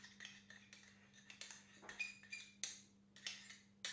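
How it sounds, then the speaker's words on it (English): The back of a spoon scrapes and taps against a container to get out the last of some double cream, a run of small sharp metallic clinks and scrapes at close range against a faint steady hum. "I've got the back end of a spoon to try and get as much out as possible"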